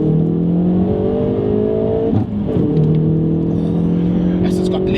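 Hyundai i30 N hatchback accelerating hard in third gear, heard from inside the cabin as a loud, steadily rising engine note with a brief dip midway before climbing again.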